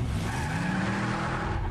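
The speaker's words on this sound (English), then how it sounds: "We're having a car chase scene." Tires screech in a sustained skid during a car chase in an Agents of SHIELD episode, loud and close with a rough engine rumble beneath.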